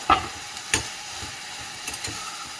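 Chopped tomato and coriander leaves sauté in a pan for vangi bath, with a soft sizzle under a few sharp scraping stirs of a spoon.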